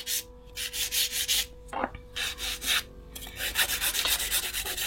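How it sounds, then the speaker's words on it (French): An acrylic stiletto nail is filed along its sides with a 180 grit file, giving close, steady rhythmic rasping strokes in quick bursts with brief pauses. "pour faire le limage, toujours utiliser une lime 180."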